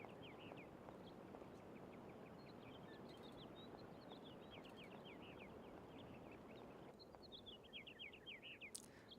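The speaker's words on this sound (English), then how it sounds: "The birds are chirping." Birds chirp faintly in the video game Syberia, a steady series of small high tweets over a soft, constant ambient background, with no voices.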